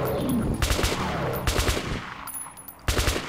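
Bursts of gunfire from the shooter Metro Last Light, fired during a swamp monster fight: sharp, loud volleys in quick clusters, a short pause, then another burst near the end.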